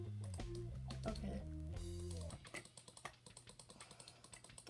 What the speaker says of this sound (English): You might hear my mouse a lot in this video because this game's literally all about clicking.